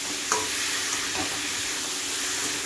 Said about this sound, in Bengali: এবার আমি আলুটাও খুব সুন্দর করে মাছের সাথে মিক্স করে কষিয়ে নেব